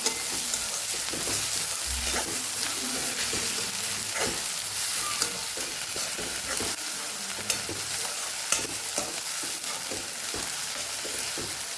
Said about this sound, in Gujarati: અહીંયા હવે આપણે ડુંગળીના લીલા ભાગને પણ ઉમેરી દઈશું એને પણ સરસ સાતડી લેવાનું છે આપણે